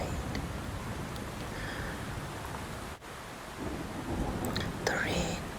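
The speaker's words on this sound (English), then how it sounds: "The rain is just drumming against the glass." Steady rain drums on window glass during a stormy night, a continuous close hiss broken by a brief dip in the middle, with a few faint higher patters near the end.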